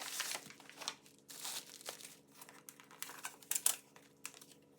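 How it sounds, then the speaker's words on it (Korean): Crinkly plastic mailer being torn open and unwrapped by hand, a semi-registered mail package containing photocards, with close, bursty rustling and ripping in irregular spurts, no talk. "첫 번째 준등기 뜯어볼게요"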